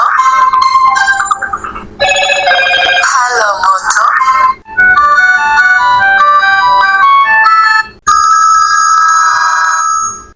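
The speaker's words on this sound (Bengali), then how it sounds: "এখানে কেমন রিংটোন দেওয়া হয়েছে।" A Motorola Moto A300 feature phone plays its ringtone loud and close: a bright electronic melody of quick tonal notes in several repeating phrases, broken by short pauses between tunes.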